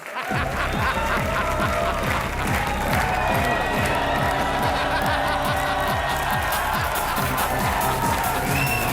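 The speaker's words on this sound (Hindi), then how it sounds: "जोरदार तालियां।" A studio audience at a Hindi comedy show breaks into loud, sustained applause and cheering, a dense wash of clapping with crowd shouts that carries steadily from start to finish.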